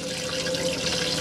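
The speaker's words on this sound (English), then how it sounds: "should you have the pump on, you'll have water, so you've got warm water there," Pressurized water runs steadily from the kitchen tap of an Auto Trail V-Line 610 motorhome, a continuous close, even hiss and splash into the sink with no talking.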